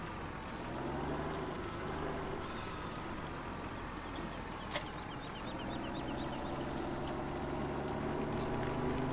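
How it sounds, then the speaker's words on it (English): A tractor engine in Farming Simulator 17 on the Goldcrest Valley map hums in a low, steady drone while mowing, with faint bird calls and a brief click over the continuous rumble. "This tractor is a little bit overkill for this, but I want to be able to mow this area"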